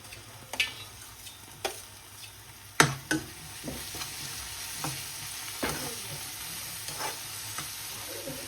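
Cassava pieces fry with green chillies and curry leaves in a pan, giving a soft, steady sizzle. Sharp utensil clacks and stirring taps punctuate it at irregular intervals, with no talking.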